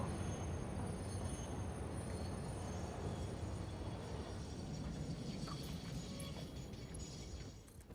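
Train rumble from a railway in the factory-building game Satisfactory, a loud, steady broadband roar with rattling wagon noise that holds throughout and eases slightly toward the end, with no talking.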